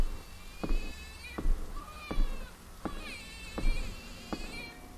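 A baby cries inside Trenches, a World War 1 horror survival game: several drawn-out wailing cries repeat over a few seconds, with sharp clicks between them and no talking.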